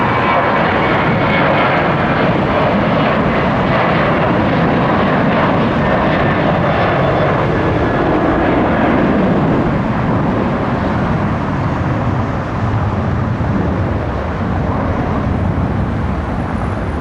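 Airliner taking off from Detroit Metro Airport, engines roaring loud and close in a sustained broadband rumble that slowly shifts in tone as it climbs away.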